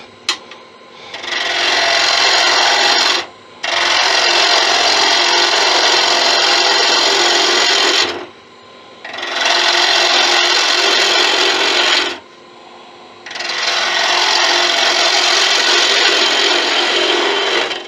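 Wood on a lathe is cut with a gouge while turning a tuning fork stand, a loud close continuous rasping shear in long passes separated by short quiet gaps.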